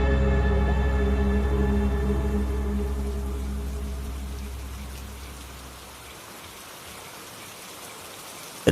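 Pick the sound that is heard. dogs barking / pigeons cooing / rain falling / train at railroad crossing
rain falling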